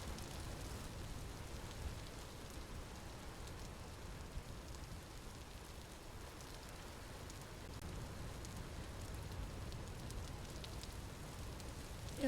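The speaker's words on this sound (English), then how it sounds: "And possibly lower the rain sounds." Background rain sounds play during a livestream as a steady, dense hiss of rainfall on surfaces, soft and continuous throughout with no voices.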